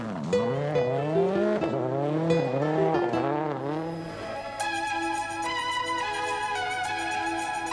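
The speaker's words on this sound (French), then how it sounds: "Prudents, les pilotes Citroën sont toujours en course pendant que Mats Osberg mène les débats." Citroën rally cars racing in a rally event, with engines revving in rising and falling sweeps and tires squealing, loud and close throughout, shifting to a steadier mechanical roar in the second half.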